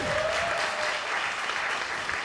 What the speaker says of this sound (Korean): 여러분 다시 한번 두 분께 큰 박수 부탁드리겠습니다.